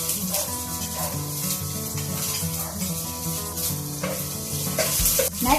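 Garlic hits a hot oiled pan and sizzles loudly and steadily, a close, continuous frying hiss with light stirring scrapes throughout.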